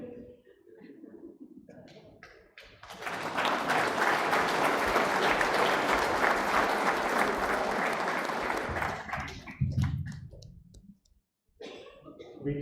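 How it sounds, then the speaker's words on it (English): Lecture audience breaks into a round of applause after a memorial talk, a dense burst of many clapping hands that swells in, holds for several seconds and fades, with speech before and after. "We can certainly have a round of applause."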